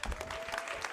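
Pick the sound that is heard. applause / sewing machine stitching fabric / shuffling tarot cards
applause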